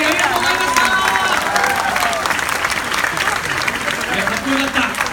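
An outdoor crowd at a Japanese shrine festival applauds a performance, loud continuous clapping mixed with cheering and chatter, with voices rising over the applause.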